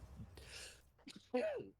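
A person sneezes close by during a Super Metroid randomizer race stream: a sharp inhaled build-up followed by one quick, forceful sneeze, soft overall and alone without talk.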